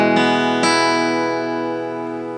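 A repaired Yamaha L5-A acoustic guitar rings out with two strummed chords in quick succession, the second left to sustain and slowly fade, with no voices.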